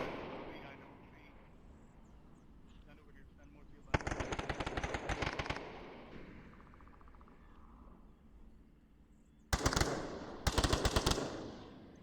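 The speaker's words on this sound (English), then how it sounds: "But rounds coming downrange from Shadow" Gunfire in the VR shooter Onward during a competitive match: several loud bursts of rapid automatic fire separated by quieter stretches, with a commentator talking in the background between volleys.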